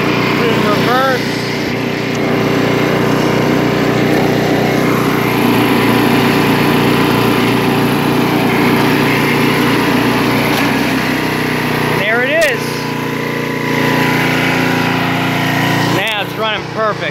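A 1994 Troy-Bilt Gardenway 33-inch wide-cut walk-behind mower runs in reverse gear, its small engine droning loudly and steadily close by, with a person talking over it.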